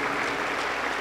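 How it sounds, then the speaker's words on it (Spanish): Steady applause from a Pentecostal church congregation during a service, a dense wash of many hands clapping at even loudness throughout the brief moment, with no voices standing out. "Aplauso para el Señor Jesús."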